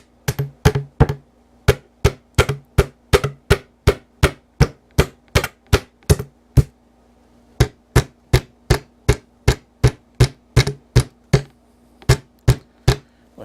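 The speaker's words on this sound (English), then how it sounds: "Take your hammer and just tap them" A hammer taps steadily on nails to drive them back out of cabinet wood, giving about thirty crisp, evenly spaced knocks in two runs with a short pause between them, close up and with no talking.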